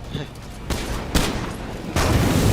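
Shotgun fire during a zombie fight in the State of Decay 2 video game, several loud blasts in quick succession with a booming tail, chaotic battle noise and voices mixed in.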